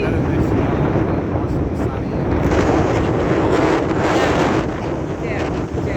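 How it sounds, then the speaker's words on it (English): Strong wind buffets the microphone on an Australian beach at Torquay, a steady, loud roar with a wash of surf underneath, lasting the whole stretch. "There's the wind."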